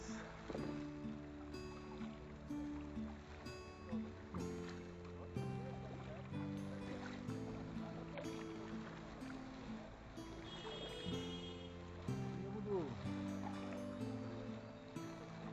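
Kayak paddles dipping and pulling through a river on a winter trip, rhythmic strokes with water swishes, fairly quiet, alongside faint tonal background sounds.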